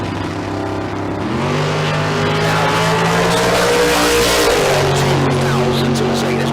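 A Corvette and a 1933 Ford Coupe roar off the line at a drag strip bracket race, loud sustained engine howl with rising harmonic pitch as they accelerate, one dropping in pitch near the end.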